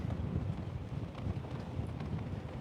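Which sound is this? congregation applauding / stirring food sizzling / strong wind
strong wind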